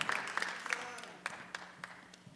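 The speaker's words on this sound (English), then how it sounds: "let's give her another round of applause" Applause at a natural bodybuilding show in Tucson, a fading patter of clapping that thins out over a couple of seconds, moderately distant, with no talk over it.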